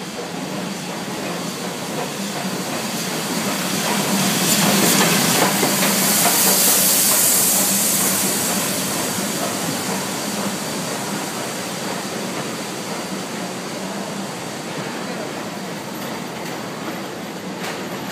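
Steam train passing close by with a loud, sustained hiss and rumble that swells to a peak midway and then eases off, with rhythmic clatter from the wheels over the rails.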